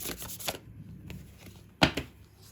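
Tarot cards being shuffled by hand, a soft riffling patter up close with a sharper snap near the end, no voices over it.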